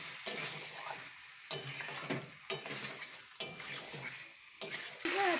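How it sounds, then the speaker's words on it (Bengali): Chicken sautéed and stirred in a pan over medium heat, with a steady sizzle under repeated sharp scraping strokes of a spoon against the pan at roughly one-second intervals, close and clear. "খুব ভালোভাবে কষিয়ে নিতে হবে, যতক্ষণ না কড়াই লাগছে"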